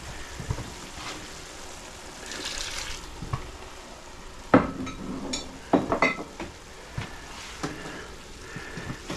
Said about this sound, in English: Give that a proper stir.